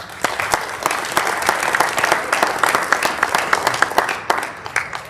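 Audience applause fills a freshman ceremony hall after a group of students' names are read, dense sustained clapping from many hands with individual sharp claps standing out, steady and fairly loud throughout.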